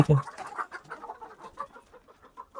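Chickens clucking in a busy flock on a poultry farm, a loud close burst at the start followed by steady overlapping clucks and chatter.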